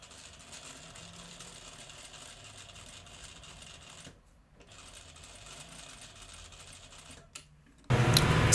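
A sewing machine runs a zigzag stitch on dress fabric, giving a steady close mechanical whir with brief pauses and a loud burst at the end.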